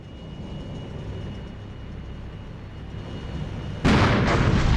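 Abrams tank cannon fires once in an armored warfare real-time strategy game, a sudden loud blast with rumbling decay after a quiet stretch of low battlefield ambience.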